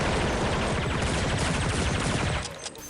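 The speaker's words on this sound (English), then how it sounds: "This thing sounds like some sort of ray gun." A TMP submachine gun in Counter-Strike fires a sustained rapid burst of zappy, ray-gun-like shots that stops abruptly near the end, loud and continuous with no talk.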